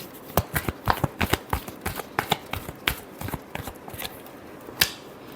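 Tarot cards being shuffled by hand in a last shuffle before a Scorpio love reading: a rapid run of crisp, close riffling slaps and flicks in uneven bursts, with no voice.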